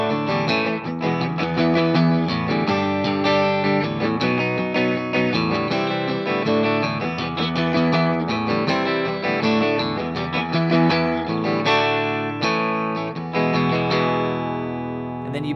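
An electric guitar with distortion and effects plays the verse of a song, strummed chords driving continuously and loudly for about fifteen seconds without any voice over it.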